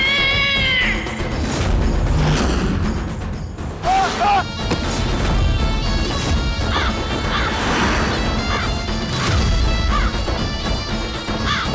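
A cat meows several times, with a long wail at the start and more cries later, over loud dramatic music and crashing hits in a Hindi television drama scene.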